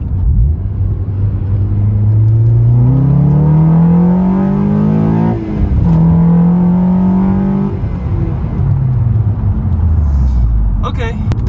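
A 9th-generation Honda Civic Si fitted with an Acuity cold air intake revs up in a rising engine whine, drops briefly and climbs again before falling away, loud and close over a steady road rumble.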